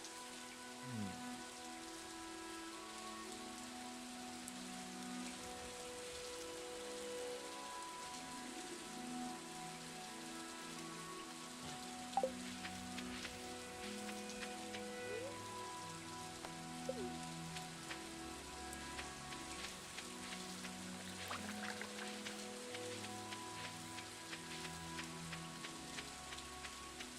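Steady rain falls on a surface for a long stretch, a constant patter with scattered drops, and low tonal hums and faint clicks sit in the background. No one speaks.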